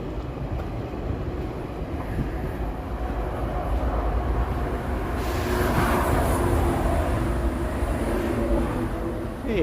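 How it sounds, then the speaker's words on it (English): A GO commuter train passes through snowy Toronto on an evening, its steady roar rising and swelling toward the end amid broad outdoor city noise. "Look at the GO train go"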